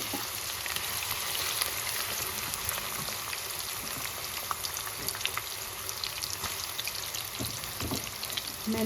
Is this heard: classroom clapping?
no